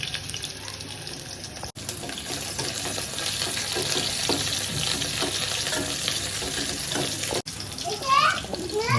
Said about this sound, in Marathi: आतमध्ये जो आता कांदो घातलेला तो पण जरा लाल होऊ गयो तो पण जरा गरम होऊ दे